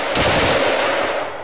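A short, loud burst of rapid gunfire from the video game Insurgency rings out close by, then tails off quickly.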